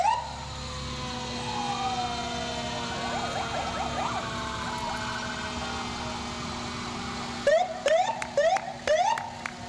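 A wailing fire engine siren sweeps up and down at a distance during a Memorial Day parade in Royal Oak, Michigan, then sharp horn blasts sound in quick bursts near the end.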